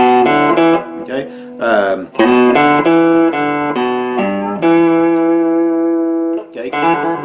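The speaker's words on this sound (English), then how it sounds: "If you want to end that last note on a trill," A blues lick on guitar plays as a run of close, bright plucked notes that settles onto a sustained final note with a rapid trill, then a few more notes follow.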